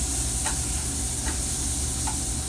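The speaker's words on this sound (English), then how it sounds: "We're sautéing the apples" Apples sautéing in a pan make a steady, close sizzling hiss, with a few brief soft stirring clicks spread through it and no talking.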